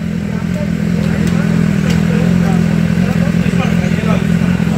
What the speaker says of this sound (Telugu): ఒకసారి ఇక్కడ నుంచి బైక్స్ అన్నీ చూడండి